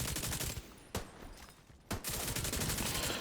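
Several enemies firing at once in a video game, a steady crackle of automatic gunfire broken by two sharp louder shots, fairly quiet in the mix.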